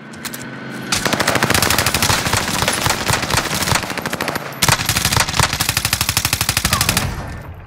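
Call of Duty Vanguard gunfire: long, dense automatic bursts of rapid, loud shots that run almost continuously with one brief break, close by and with no voices over them.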